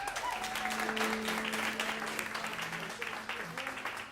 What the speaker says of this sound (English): please give a well-deserved round of applause for Miss Tina Raymond on the drums.